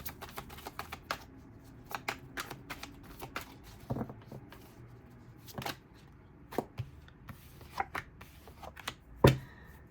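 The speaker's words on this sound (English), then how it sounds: "It's kind of crazy because of how much I shuffled this deck, and here it is again." A tarot card deck is shuffled by hand, giving quiet, irregular snapping and riffling clicks with several sharper bursts scattered across the stretch, close up against a faint background; no one speaks.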